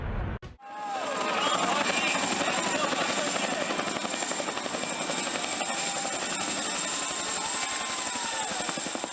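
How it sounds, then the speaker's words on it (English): A heavy-lift Chinook helicopter flies close overhead, carrying a race car to a racetrack in Texas. Its loud, steady rotor thump beats rhythmically for about eight seconds after a brief sharp onset, with no talk. "The heavy-lift Chinook delivers a race car directly to the racetrack in Texas"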